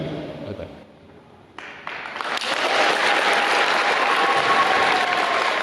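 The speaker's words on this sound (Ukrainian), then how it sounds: "Такими оплесками вітали Богдана ще не один раз під час його промови" Children in an audience applaud a soldier's speech, the clapping swelling from quiet into a steady, dense, loud round that holds to the end, with a voice briefly audible near the start.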